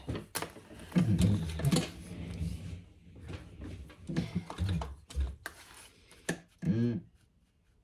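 A sewing machine stitches a diaper backpack seam in short, uneven bursts separated by pauses, with small clicks and handling noises between runs.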